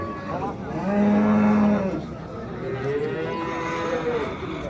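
A Simmental cow gives two long, loud moos in succession, close by at a livestock market in Oltariq, Uzbekistan, with little else around.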